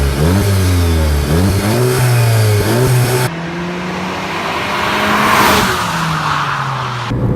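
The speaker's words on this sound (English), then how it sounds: "The noise of the engine, yeah, I think the noise is okay." A 2016 Volkswagen GTI engine revs hard through rising gear-like sweeps, loud and close, then settles into a steadier, smoother drone.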